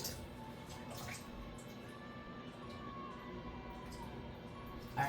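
Cloudy rinse water pours off grains being drained for homemade dog food, a quiet steady trickle and splash in a kitchen sink, faint and continuous, with a brief clatter at the end.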